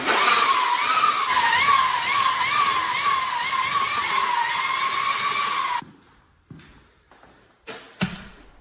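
Electric motor of a custom-built Razor e-bike revving on its first throttle, a loud steady high whine with wavering pitch for several seconds, then cutting off into a few sparse clicks and knocks.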